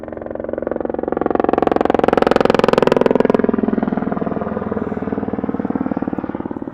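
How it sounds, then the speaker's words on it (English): A helicopter banks around overhead near the border wall at Naco, Arizona, its loud, steady rotor drone pulsing continuously, swelling to a peak in the first few seconds and then easing slightly. "Chopper's here, banking around."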